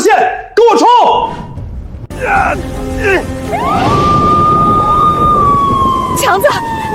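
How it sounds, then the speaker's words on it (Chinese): A level-one alarm siren rises and then holds a long, steady wail through the second half, following loud agitated voices at the start. "拉响1级警报，封锁后山所有下山路线"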